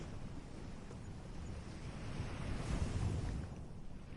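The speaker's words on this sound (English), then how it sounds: "only the gentle rhythm of the waves." Gentle ocean waves wash softly and continuously on their own, a quiet hiss that swells in a slow surge near the middle before easing back.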